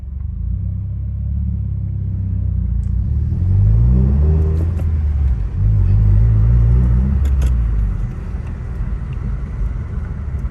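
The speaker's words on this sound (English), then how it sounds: "Let's take it for a test drive." A 2017 Subaru Impreza WRX driving on a test drive after a clutch replacement, its engine rumbling loudly from inside the cabin, revving up with rising pitch, easing off, then pulling again through the gears.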